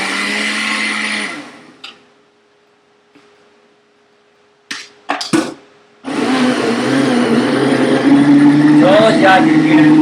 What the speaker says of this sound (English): So that's done blending for about 45 seconds.